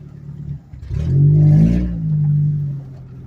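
A Geo Tracker SUV that has sat a long time on old stale gas runs and revs once, its engine note rising and holding near and loud, then easing off and settling into a steady run.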